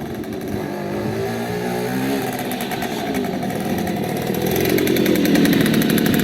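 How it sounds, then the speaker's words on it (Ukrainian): A restored 1968 Riga 4 moped engine runs steadily up close, a continuous buzzing two-stroke drone that rises in pitch and loudness toward the end as it revs. "Так їде наш верховина Рига 4"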